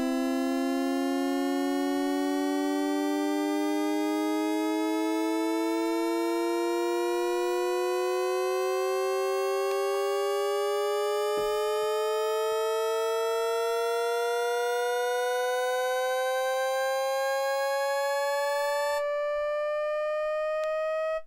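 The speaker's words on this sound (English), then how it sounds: "You could probably start to build up things like shepherd tones and stuff like this." Sweeping drone tones from the AU GEN X iPad synth app, layered in a Shepard-tone style with steady harmonic lines gliding slowly upward together, loud and continuous, alone with no talk.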